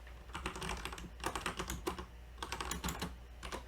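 Close, steady clicking of code being typed on a computer keyboard, keystrokes coming in quick clustered runs with brief pauses between them, no voice.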